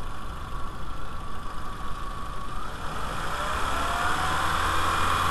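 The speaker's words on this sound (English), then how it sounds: "Okay, a new pump is in, idling right now." A Volkswagen Beetle 2.0L engine with a newly replaced water pump idles steadily, then its pitch rises gradually as it is revved up a little, a continuous close engine drone with no talking.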